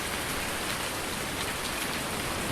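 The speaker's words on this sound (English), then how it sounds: "We'll go inside, out of the rain." Steady rain patters on a shed roof in Farming Simulator 19, a dense, even hiss of drops that stays constant and close without any talking.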